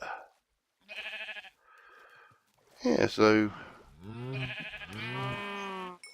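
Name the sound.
sheep bleating in video game Magic Farm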